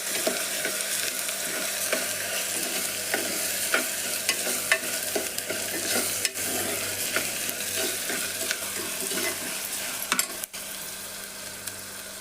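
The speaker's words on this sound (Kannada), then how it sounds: "ಇದು ಎಣ್ಣೆ ಒಳಗೆ ಫ್ರೈ ಆಗಕತ್ತೈತಿ ನೋಡ್ರಿ" Chopped tomato fries in hot oil with a continuous close sizzle for about twelve seconds. Small stirring clicks and taps come and go, and there is no talk.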